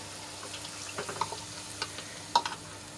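Spice paste tipped into garlic already frying in oil gives a faint, crackling sizzle with a few sharper spits and clinks of stirring, fairly quiet throughout with no talking.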